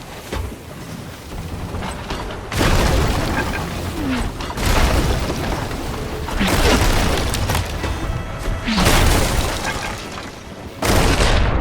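Cannons fire in a pirate video game, heavy booming blasts in several long loud bursts with crackling debris and rumbling between them, close and powerful.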